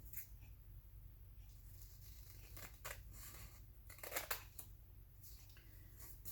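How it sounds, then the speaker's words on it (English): Scissors snip through paper while decorating ephemera and pockets for a vintage typewriter journal, with a few short, quiet, close cutting bursts and no voices. "I'm going to cut it just a little more."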